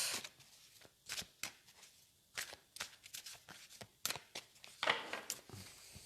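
Tarot cards are shuffled and handled in a quiet room for an evening reading: irregular soft riffles and slaps come close and fairly quiet, with gaps between bursts and no talking.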